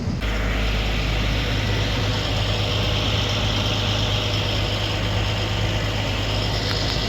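Farm tractor engine running while disking a 20-acre field, a steady, close, low rumbling drone that holds unbroken throughout with no voices.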